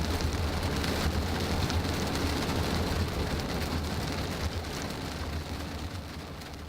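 Steady rain drumming on a car roof, heard from inside, a constant dense patter with a low rumble beneath.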